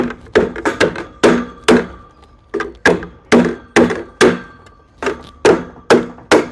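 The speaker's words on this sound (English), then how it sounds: "one thing I always like to use is a rubber mallet" A rubber mallet strikes a metal sleeve being worked onto a fence post for a cattle gate, giving a steady series of about fifteen close, solid thunks with short ringing tails and no talking.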